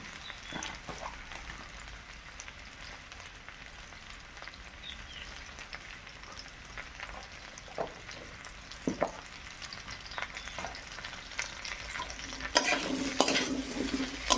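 Okra is tossed into partly boiled potatoes frying in a pan, giving a soft, continuous sizzle with scattered stirring clicks and a louder hissing burst near the end, no voices.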